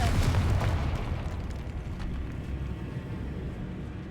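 A Confringo fire-blast spell going off in Hogwarts Legacy, a loud, close explosive burst at the start that rumbles and slowly fades into a churning low tail.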